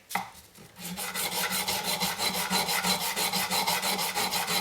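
Sterling silver for a hexagonal box is sanded back and forth with 150-grit abrasive, a rapid, rhythmic rasping scrape repeating several times per second, close and steady after a brief knock at the start, with no talking.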